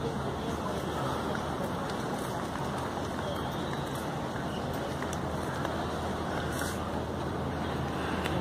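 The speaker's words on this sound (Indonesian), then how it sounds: "Ada speedboat satu." A speedboat passes on the open ocean off Ma On Shan: a steady, broad engine-and-water roar fills the whole clip at an even level, with voices talking faintly in the background.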